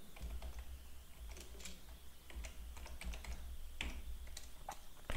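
Fingers type on a computer keyboard in quick, uneven bursts of soft clicking keystrokes, close and fairly quiet over a low steady hum, with no talk.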